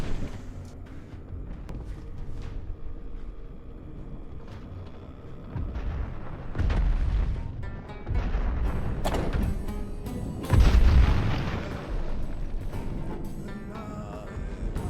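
Cluster bombs going off in the survival game Last Oasis, a run of heavy booms and thuds with a big blast near the end over a steady game soundscape.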